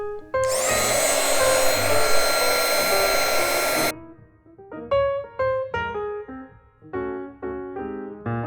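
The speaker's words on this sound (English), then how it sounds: "Grab your heat tool and start with the first letter." Embossing heat tool blowing hot air over embossing powder, a loud steady fan whoosh for a few seconds that cuts off, followed by a run of clicks and knocks.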